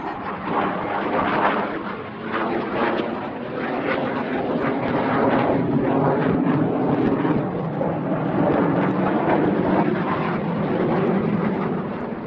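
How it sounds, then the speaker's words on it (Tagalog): A fighter jet roars overhead, a loud, continuous, broadband rush that holds steady throughout with slight swells, nearly drowning out any talk. "Kita nyo, fighter jet."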